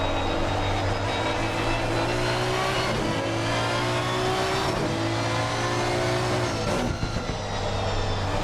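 A race car engine in Assetto Corsa Competizione at Zandvoort screams at high revs, the pitch rising and dropping sharply with gear changes, stuttering in short bursts as traction control cuts power.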